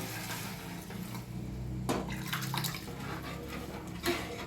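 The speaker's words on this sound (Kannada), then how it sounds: "ಈಗ ಸ್ವಲ್ಪ ನೀರು ಹಾಕಿ ಗಳಬಡಿಸ್ತಿಗಿತ್ತೀನಿ ರೀ" Water poured into a cooking pot splashes and runs steadily, with a brief louder gush midway and some clatter.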